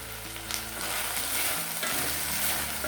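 Raw banana pieces with turmeric frying in oil in a pan make a steady, close sizzle with some stirring scrapes, and nobody talks.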